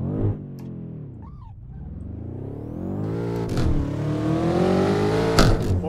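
A BMW M6 engine in a racing video game drops to a low idle-like dip, then revs and climbs steadily in pitch. The engine note is a strong harmonic drone with brief sharp bursts, and no talk is heard.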